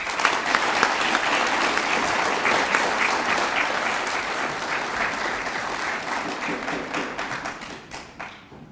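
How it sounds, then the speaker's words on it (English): An audience claps for a group of award recipients at a school co-curricular prizegiving, a sustained loud burst of applause from a hall crowd that thins and fades near the end. "We'll give this group a round of applause now."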